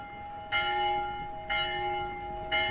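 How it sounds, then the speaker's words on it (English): A town hall bell rung by pulling its rope, struck three times at steady one-second intervals, each clear ringing stroke hanging over a sustained hum. "Who pulls the town hall bell rope but blind Captain Cat?"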